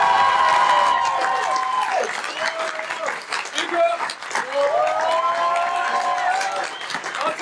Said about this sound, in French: J'aimerais que vous applaudissiez très fort Jimmy.